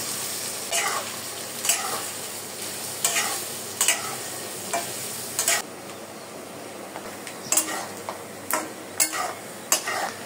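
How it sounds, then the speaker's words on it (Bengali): Grated coconut fries in a pan with a continuous soft sizzle, while a spatula scrapes and taps against the pan in a loose, repeated rhythm of sharp close clicks. "এবার নারকেলগুলি ভাজবো"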